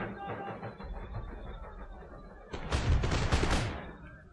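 Infantry musket volleys crackle in Empire Total War battle, with distant rolling gunfire at first, then a louder, dense burst of overlapping shots about midway that dies away toward the end.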